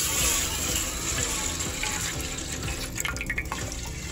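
Water splashes and swishes steadily as sago is rinsed in a pot, with a few louder sloshes toward the end.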